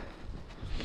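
Strong winter wind rushes outdoors on a frozen fishing spot at several degrees below zero, buffeting the microphone as a dense, steady roar with no voices.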